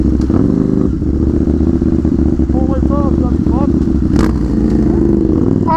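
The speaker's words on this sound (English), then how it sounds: "Your bike's too loud, mine's too loud." A very loud KTM 790 motorcycle engine rumbles and revs steadily at close range, with a continuous heavy exhaust drone throughout and some clattering, while people shout over it.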